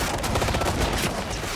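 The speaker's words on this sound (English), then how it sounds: "we've been crawling through the mud and dodging gunfire with Tom Clancy's Ghost Recon Future" Rapid automatic gunfire from the video game Tom Clancy's Ghost Recon Future Soldier, a dense continuous burst of loud overlapping shots with no pauses.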